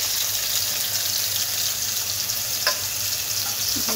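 Potato and eggplant fry with spice paste in a pan, a loud even hiss of oil holding steady throughout, with one faint tap of a utensil near the end.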